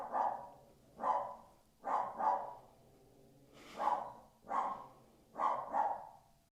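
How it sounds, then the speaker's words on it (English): A dog barks in a steady series of single and doubled woofs, about seven bursts spaced roughly a second apart, moderately close and alone with no talk over it. "Well, once Jovi stops barking, I'll show you."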